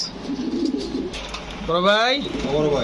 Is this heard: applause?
no